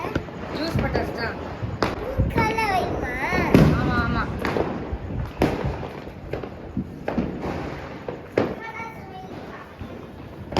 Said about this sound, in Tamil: அதுக்கு மேல மொட்டை மாடிக்கு போயிட்டோம் நாங்க பட்டாசு வெடிக்க.